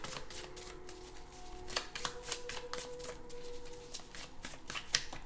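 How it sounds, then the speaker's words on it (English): Tarot cards being shuffled by hand in a quiet room, a steady run of soft papery riffles and taps close up with brief sharper snaps, no talking. "I feel like I want this card, but I want to keep shuffling."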